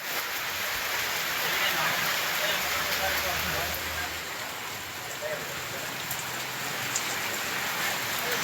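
Heavy rain pouring steadily for a long spell over the Natrampalli area of Tirupattur district in Tamil Nadu, a dense continuous hiss that stays loud and even throughout, with no voices.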